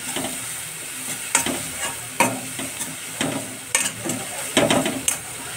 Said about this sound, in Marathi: टमाटर पण आपलं सॉफ्ट होईल, फक्त परतून घ्यायचं 1-2 मिनिटासाठी